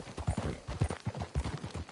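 Horse hooves clip-clopping at a steady walking rhythm in the Red Dead Redemption 2 video game, a quick run of close, fairly soft hoofbeats.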